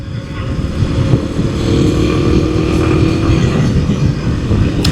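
A Kawasaki KLX300 dirt bike on stock tires is ridden over damp ground, its engine a loud, continuous drone that holds steady throughout with a little wind rush and no clear gear changes.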